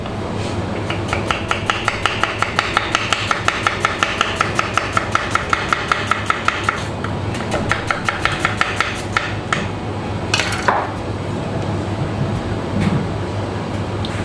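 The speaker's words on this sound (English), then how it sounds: "if you ask a chef to slice an onion, he would slice it crossways like this" A knife slices a spring onion crossways on a chopping board in quick, evenly spaced taps that run for several seconds, pause, resume briefly, then end with a louder scrape.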